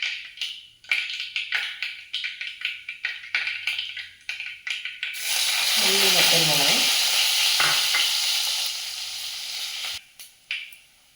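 Mustard seeds crackle and sizzle in hot oil, with sharp popping taps at first, then a loud steady frying hiss that cuts off near the end.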